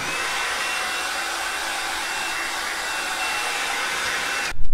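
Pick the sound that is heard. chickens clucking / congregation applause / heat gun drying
heat gun drying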